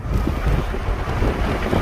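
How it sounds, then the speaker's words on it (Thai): Strong wind gusting outdoors in a town street near a parked 12-metre bus, buffeting the microphone with a loud, continuous low rumble and roar throughout. "เสียงลมแรงมากเลย"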